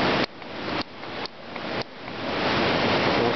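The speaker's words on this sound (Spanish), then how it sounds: "hay una piscina de hidromasaje" Hydromassage pool water bubbling and churning, a continuous loud broadband rush with several abrupt level jumps as it builds, no voices.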